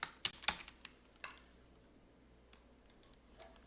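Quick keystrokes on a computer keyboard as a name is typed into a product personalization page, a short burst of clicks followed by a few scattered taps, close and fairly quiet.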